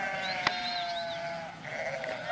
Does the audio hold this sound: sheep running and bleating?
yes